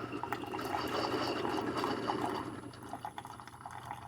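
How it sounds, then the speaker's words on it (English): A Tastyle single-serve coffee maker brewing, giving a steady close gurgling and pouring trickle of liquid filling a cup that eases slightly toward the end, with no voices. "Takes about the same amount of time to brew as a Keurig coffee pot would."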